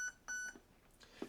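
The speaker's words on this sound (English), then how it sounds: "So 4 beeps in the main menu means we are at pre-cocking." Short electronic beeps from a Specna Arms HAL ETU airsoft gun's programming menu, several quick tones in a row, close and clear, with no talking.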